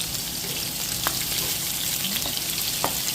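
Garlic and onion frying in a pan for chicken adobo, a loud continuous sizzle with a few light scrapes and clicks of stirring, close up and without talk.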